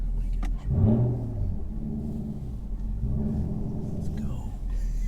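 A manual V8 Chevy Camaro pulls away with a low engine rumble that rises briefly in pitch and then settles, close by, with people talking over it.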